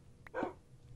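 Dogs in a Minecraft UHC match give a single short bark, moderately loud against a quiet low background hum.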